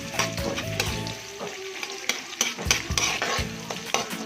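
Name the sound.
onions being sautéed in a pan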